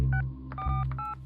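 A quick run of touch-tone telephone dialing beeps as a phone number is entered, several short clear tones in an uneven sequence over a low steady hum, with no talking.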